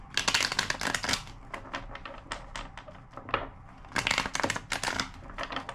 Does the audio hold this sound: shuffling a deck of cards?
yes